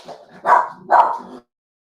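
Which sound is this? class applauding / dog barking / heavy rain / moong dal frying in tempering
dog barking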